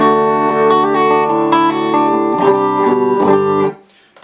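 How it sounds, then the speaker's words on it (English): An electric guitar on its bridge pickup plays through a Blackstar HT-20 valve head's clean channel with the tone control fully off. A loud, close run of picked notes and chords sounds warm and dark, then cuts off and decays. "tone all the way off basically sounds like this with my bridge pickup"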